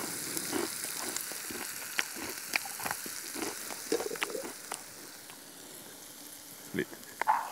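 Food frying in a pan outdoors at a mountain fishing camp, a soft continuous sizzle with scattered light clicks and scrapes of utensils, no talk.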